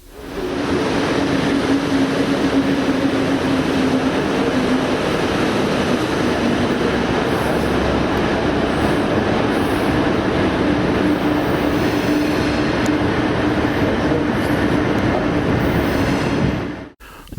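Overnight train crossing Germany from Freiburg to Dresden, a steady loud rumble of wheels on track with faint rail squeal, continuous throughout and without talk, fading out abruptly at the end.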